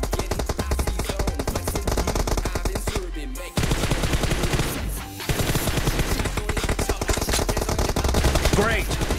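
Gunfire rattles through a team deathmatch in a shooting video game with an M24 sniper rifle, dense rapid shots heard up close with a short lull partway through.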